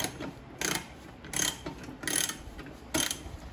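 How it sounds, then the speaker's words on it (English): A large half-inch ratchet tightens a 15/16 brake bolt during a front disc brake conversion on a 1974 Chevy Nova, giving four or five separate bursts of close, crisp ratcheting clicks with short pauses between. "We got our big half inch ratchet out with the size of this. 15/16. So he's going to tighten this down."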